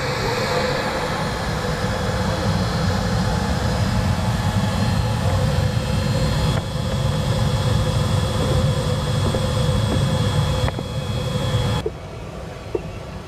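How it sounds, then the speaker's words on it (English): A Pilatus PC-24 business jet parked after landing, its engine held in a sub-idle quiet power mode, gives a steady loud whine and rumble for the whole stretch before the level drops slightly near the end. "running the aircraft now in the quiet power mode, which is a sub-idle function of the engine"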